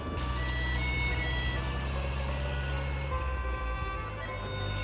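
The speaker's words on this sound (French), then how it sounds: "Allez, c'est parti, ça fait vroom vroom, on y va" A 1925 Citroën Trèfle vintage car runs on a Paris street, its engine giving a steady droning hum with a low rumble that stays close and even, with no talk over it.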